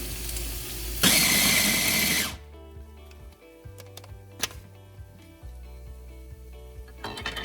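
A kitchen food processor shreds paneer in a loud close whirring burst that cuts off after a second, followed by quieter motor hum and mechanical clicks.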